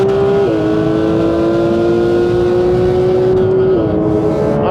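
A Porsche 992 GT3 RS with Manthey kit howls at high revs on a racetrack, loud and close from the cabin, its engine note holding steady and stepping down briefly with quick gearshifts.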